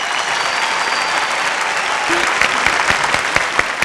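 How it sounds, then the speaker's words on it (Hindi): Loud, dense applause from a dance-show studio audience welcomes actor Vinay Anand, a steady wash of many hands clapping with a few sharper claps standing out toward the end. "बहुत जोरदार तालियों के साथ स्वागत बा विनय आनंद जी के।"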